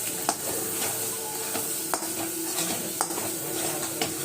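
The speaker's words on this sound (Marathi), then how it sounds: "आपण हे मसाल्यामध्ये फ्राय करू।" Powdered spices, paneer masala, black masala and turmeric frying in a pan, loud steady sizzle with regular spoon scrapes and clinks against the metal pan, no voices.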